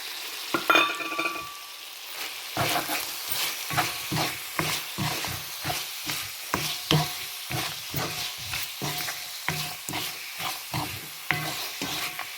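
Pepper chicken frying in oil with ground pepper, a spatula scraping and stirring in a steady repeated rhythm over a soft sizzle, close and fairly loud.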